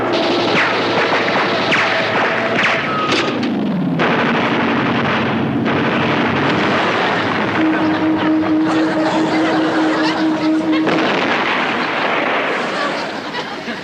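Loud bursts of rapid anti-aircraft gunfire and heavy blasts dominate, with a droning Zero fighter plane engine and shouting voices mixed into the chaotic, close-up din.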